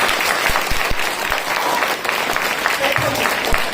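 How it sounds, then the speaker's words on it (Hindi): Loud audience applause at a Hindi education talk, a dense burst of clapping from a nearby crowd with some individual sharp claps, after a student answers. "तालियां बजा दो"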